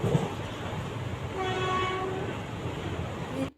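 Steady rumble of a moving train from inside a carriage, with a horn sounding in the middle, continuous and fairly loud.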